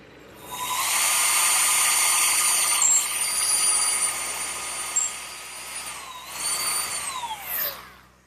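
A drum sander smooths an angled cut in a wooden Adirondack chair part, worked freehand against the drum, giving a steady high whine that rises and dips in pitch as the wood is pressed and eased off.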